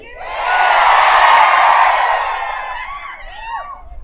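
A large crowd at a political rally roars with cheering, whoops and screams, swelling loud within a second, holding, then tapering off as scattered shouts trail away.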